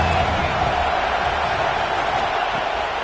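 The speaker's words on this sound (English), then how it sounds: "The Buckeye crowd alive on 3rd down." An Ohio State Buckeyes home stadium crowd roars during a college football game against Washington on third down, a loud, steady, dense wall of cheering that stays constant throughout.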